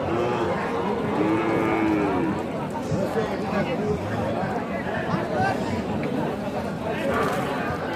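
Cattle at a rural livestock market low in a drawn-out moo under a constant babble of crowd chatter and nearby voices.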